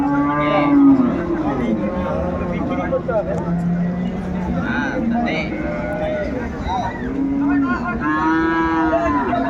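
Cattle moo repeatedly at a Dinajpur livestock market selling improved dairy cows and calves, long drawn-out calls sounding loud and close, with several animals overlapping and a steady background of crowd noise.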